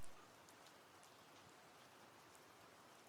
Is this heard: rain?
yes